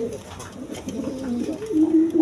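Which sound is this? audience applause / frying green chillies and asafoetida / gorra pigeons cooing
gorra pigeons cooing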